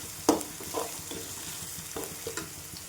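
Red chillies sauté in a pan for a drumstick vegetable dish, a quiet sizzle broken by a few sharp spoon taps and scrapes of stirring.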